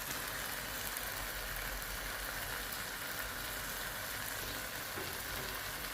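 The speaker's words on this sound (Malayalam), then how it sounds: "നമുക്കിത് നന്നായിട്ട് ഇളക്കി യോജിപ്പിക്കാം" Masala with Kashmiri chilli powder stirred in a hot pan for paneer masala, giving a continuous dense frying sizzle with soft stirring noise throughout and no clear individual strikes.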